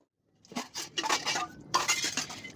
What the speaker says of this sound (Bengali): এইবার যাব বাসন মাজতে তো দেখো এটা বাসন সব বের করে রেখে দিয়েছি